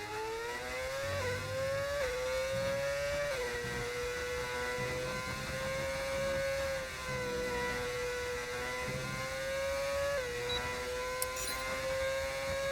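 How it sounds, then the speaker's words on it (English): Modded Formula 1 car engines in the F1 video game give a continuous high-pitched whine that rises and falls gently with throttle changes, steady and fairly quiet with no talking. "Why does F1 cars sound like that?"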